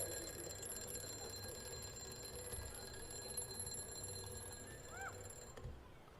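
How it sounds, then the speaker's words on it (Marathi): An alarm clock rings continuously, a steady metallic bell heard at a modest distance for the whole stretch, with a brief chirp near the end and no speech. "तुम्हाला उठवायला गजर वाजला बघा"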